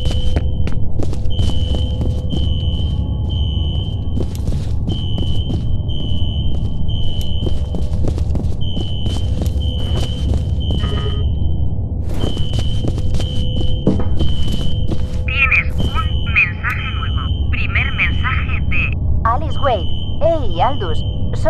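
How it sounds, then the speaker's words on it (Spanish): An alarm in the F.E.A.R. video game sounds inside an office building, a steady, evenly spaced high-pitched beeping that repeats throughout. It plays under droning game ambience, and someone talks over it. "¿Quién narices activó una alarma antiincendios?"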